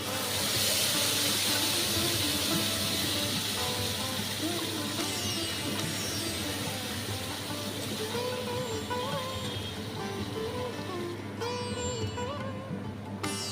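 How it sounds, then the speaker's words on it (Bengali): Mustard paste hits hot oil in a pan for a Bengali mustard pomfret fish dish, giving a loud burst of hissing sizzle that gradually settles into a steady, softer crackle. "এখানে আমি বড় চামচের 4 চামচ সর্ষে গুঁড়োর মধ্যে গরম জল মিশিয়ে একটা ঘন পেস্ট তৈরি করে রেখেছিলাম, সেটা আমি তেলের মধ্যে দিয়ে দিচ্ছি।"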